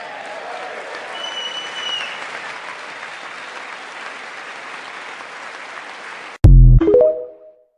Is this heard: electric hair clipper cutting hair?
no